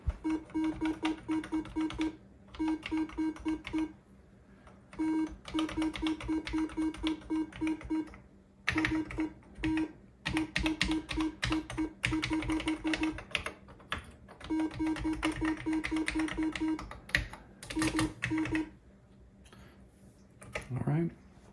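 Keys clatter on a refurbished Atari 800XL computer keyboard in quick bursts of typing, close and crisp, pausing between runs over a steady electronic hum.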